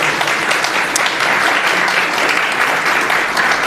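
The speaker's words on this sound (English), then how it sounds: "Maybe a warm round of applause." A seated conference audience gives steady, dense applause after a panel discussion on digital sovereignty and fusion energy. The clapping is loud, close and continuous, with no talk over it.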